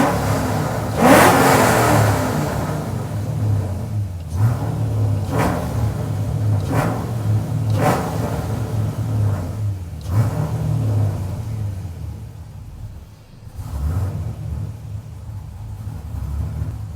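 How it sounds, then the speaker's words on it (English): A warmed-up Pontiac GTO engine revs repeatedly: a series of sharp throttle blips, each rising and falling back to a low, rumbling idle, loud and close, with no talking. "the car is fully warmed up and it's revving totally fine"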